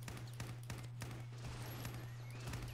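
Enemy soldiers fire rapid bursts of gunfire in the game Ravenfield, a string of sharp repeated shots over a steady low hum, fairly faint and distant.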